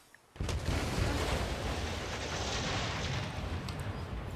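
A small stadium demolished in the SimCity city-building game erupts in a sudden loud blast, then a sustained heavy rumble of collapse and debris that rolls on for several seconds.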